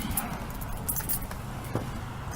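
Car keys for a 1998 Infiniti I30T jangle close by in a few quick metallic bursts, with faint outdoor background noise and no talking.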